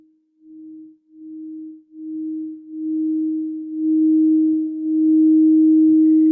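A pure, sustained tone from a crystal singing bowl swells in repeated pulses, growing steadily louder and fuller as it rings on alone.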